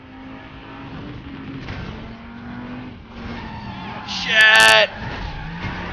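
Audi TT RS in the Driver: San Francisco racing game, its engine droning steadily under excited talk, then a loud, bright tire-skid squeal bursts out for about half a second near the end.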